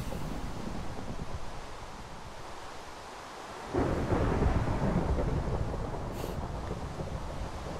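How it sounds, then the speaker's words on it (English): Thunderstorm in Minecraft: steady broadband rain and wind noise, then a loud rumbling thunder roll swells in midway and lingers under the downpour. "Great, now it's a thunderstorm."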